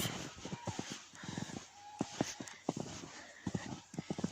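A donkey walks over snowy, untrodden rough ground in light snowfall, its hooves giving a series of soft, irregular close thuds and crunches with no talking.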